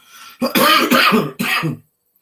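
A short burst of two or three harsh, close coughs, loud and throaty, followed by silence.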